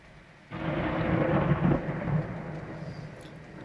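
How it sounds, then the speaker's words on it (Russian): Thunder rumbles in a single deep roll during a heavy downpour with lightning nearby, starting abruptly, swelling, then slowly fading, with rain hissing faintly in the background. "Вы слышите, какой гром гремит?"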